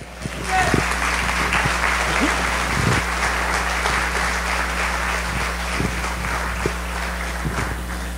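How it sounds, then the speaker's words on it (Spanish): Church congregation claps together for the Lord, a broad steady wash of applause from a large gathering with a constant low hum underneath and a few sharper knocks scattered through. "un aplauso para el Señor"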